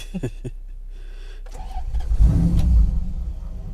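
A V8-swapped Daihatsu Xenia cranks and fires up after a few clicks and a quiet pause, then revs in a short, rising roar close to the microphone.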